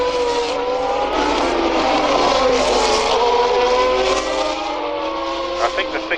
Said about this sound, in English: Possibly a broken exhaust pipe, that sort of noise